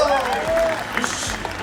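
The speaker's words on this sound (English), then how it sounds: "please put your hands together and give a big cheer to George Russell" Crowd applause for Formula 1 driver George Russell on race day at the 2019 British Grand Prix, a broad clapping wash under a loudspeaker voice that fades after the opening moment.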